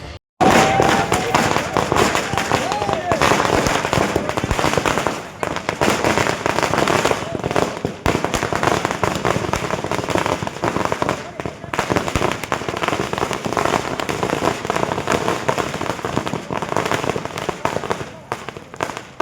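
Firecrackers burst in front of a police station at a BJP victory celebration in Raichur, in rapid, loud volleys of cracks and pops, nearly continuous, with people talking and shouting underneath.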